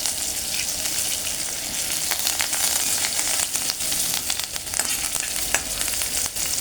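Green chillies and curry leaves sizzle steadily in hot oil, with a dense, continuous crackle and occasional sharper pops, close and fairly loud, and no voices.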